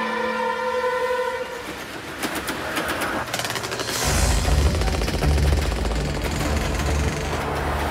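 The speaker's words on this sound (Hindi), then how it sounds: "हेलो लड्डू सिंह जी, मैं वेदास एक्सप्रेस ट्रेन का ड्राइवर बोल रहा हूँ" Animated Vedas Express train rumbles along with a loud, steady low-end roar that swells midway, layered with a horn-like tone early on and busy cartoon background effects.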